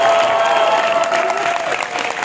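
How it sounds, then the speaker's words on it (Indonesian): Audience at a film greeting event for a horror feature at a Jogjakarta film festival applauds steadily, a dense, sustained wash of clapping filling the hall with a faint tone running beneath. "tepuk tangan yang lebih keras semuanya"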